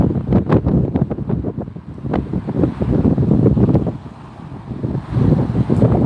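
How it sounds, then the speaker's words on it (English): Gusting wind at Las Vegas airport buffets the microphone in loud, rough rumbling surges that swell and ease over several seconds, with no voices. "with these gusting winds today"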